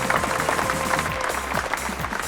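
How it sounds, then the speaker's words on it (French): Applause from an unseen crowd, the clapping dense and steady for a couple of seconds, mixed over a low, rhythmic musical bed that runs beneath it. "l'on continuait à applaudir comme si de rien n'était"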